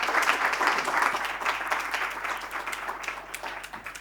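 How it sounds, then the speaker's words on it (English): A conference audience gives a big round of applause for the first morning panel on clean energy, a dense, steady wash of many hands clapping that thins slightly toward the end. "a big round of applause for our first panel here this morning"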